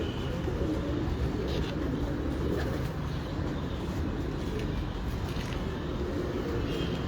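Pigeons at a pigeon keeper's loft in Karachi coo in low, soft, repeated murmurs, blending into a dense background of ambient noise with faint higher chirps.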